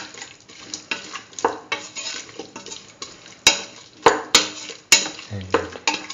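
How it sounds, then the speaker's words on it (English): A spoon scrapes and knocks around a pan in quick repeated strokes, stirring a potato and cucumber rice mixture with added water, with metallic clinks and a faint sizzle underneath. "Thoroughly mix."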